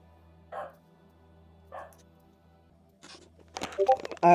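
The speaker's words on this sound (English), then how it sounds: "I apologize if you can hear barking in the background" Two small shelties bark in the background: a pair of distinct, fairly faint yaps spaced about a second apart, then a stretch of quiet before a voice starts talking near the end.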